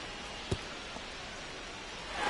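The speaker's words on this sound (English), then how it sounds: "This rain is not letting up." Steady rain hisses down in a baseball video game, a soft even wash of noise with one faint thump early on and the downpour swelling slightly at the end.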